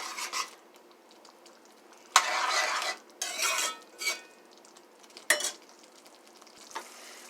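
Masala for a grandma-style Guyanese chicken curry sizzles in a pot while being stirred, with several rasping scraping strokes in separate bursts over a steady low frying hiss; no talking.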